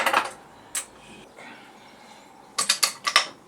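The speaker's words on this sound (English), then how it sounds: "I'm going to slacken off or completely remove this top bolt now." A wrench working the top bolt of the right fork on a BMW F650GS Dakar motorcycle during a fork spring rebuild: scattered metallic clicks, then a quick run of five or six sharp ratcheting ticks near the end, close and fairly crisp.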